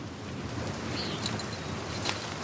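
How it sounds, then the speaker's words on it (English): Steady rain hisses throughout a scene in the video game Pentiment, an even wash of drops with faint higher ticks, no talk over it. "I hope this rain lets up for you soon."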